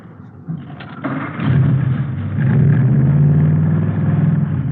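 A 120-horsepower hot rod engine cranks and catches, then settles into a loud, steady low rumble close by.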